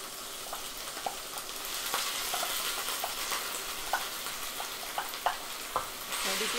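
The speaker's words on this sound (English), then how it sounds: "So I have 2 medium onions that I chopped, and we're going to just put it in the pan." Chopped onions frying in olive oil in a pan make a soft, continuous sizzle with scattered crackles and pops, close and fairly quiet, without talk.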